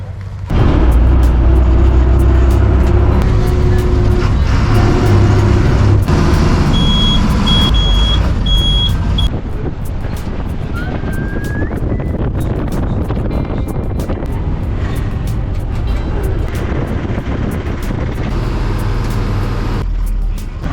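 KSRTC bus from Kannur driving through Poopara toward Santhanpara in the Idukki hills, engine and road rumble loud and steady throughout, with a brief tonal beep partway through.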